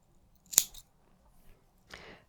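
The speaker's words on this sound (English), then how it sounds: "now if I trim the end" Scissors trim a yarn end on double-knitted fabric, giving one crisp, close snip followed by a softer second cut in an otherwise quiet room.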